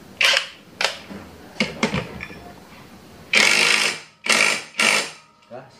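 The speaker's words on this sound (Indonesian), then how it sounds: "kita tinggal kita kencang menggunakan torsi maksimal di impact" An impact wrench tightening the CVT nut on a Yamaha Grand Filano scooter, firing in several short loud bursts and then longer rattling hammering runs, close up in a workshop.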